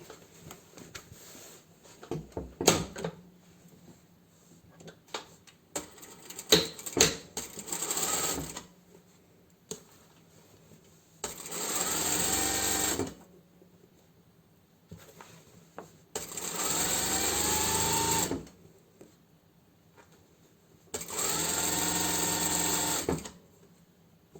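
A sewing machine stitches a seam on an elastic-waist skirt in three steady whirring bursts of a few seconds each, separated by quiet pauses and some handling clicks of fabric and the machine.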